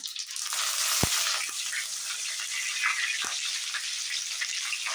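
Curry leaves crackling in hot oil after mustard seeds, a bright continuous sizzle that flares up loudly at first and then settles into a steady hiss, close and without any talk.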